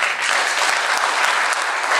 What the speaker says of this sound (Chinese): 为自己鼓掌，鼓掌一下。